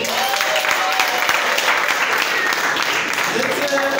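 Wedding guests at a ceremony in Gisozi, Kigali, applaud continuously in a dense, steady wash of clapping. Cheering voices and chatter rise over it, and the whole crowd is loud and close.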